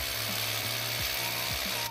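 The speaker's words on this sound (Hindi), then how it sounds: "सो, अभी यहाँ पर हो रही है ड्रिलिंग।" A drill bores through mounting material to attach the panel of a Hikvision boom barrier, a steady, close whirring grind that runs without a break and stops abruptly at the end, with no voices.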